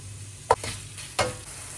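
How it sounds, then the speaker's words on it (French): Minced meat dropped into hot oil in a pan, giving two sharp sizzling bursts with a low steady frying hiss between them, close and alone. "je mets ma viande et je la laisse colorer un tout petit peu"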